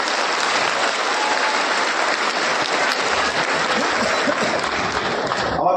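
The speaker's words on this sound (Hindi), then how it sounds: "एक जोरदार तालियां साथियों की।" An audience at an outdoor rally for a birth-anniversary festival for Emperor Ashoka in Patna breaks into dense, loud applause, many hands clapping continuously for several seconds in a steady wash before it cuts off abruptly.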